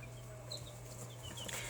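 Soft, scattered clucks from a few Brahma pullets over a low steady hum, quiet and close.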